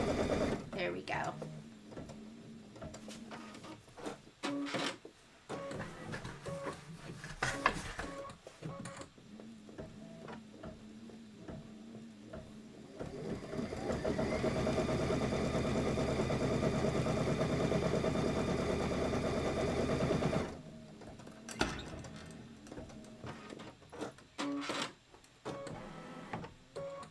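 A sewing machine stitches a quilt border, with stop-start bursts of rapid mechanical whirring and a long steady run in the middle, while someone talks over the pauses.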